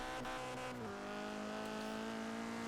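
A Rocket Bunny Nissan 240SX with a stock KA engine drifting in a driving video game: a steady, buzzing engine drone whose pitch drops early on and then holds level, with no talking.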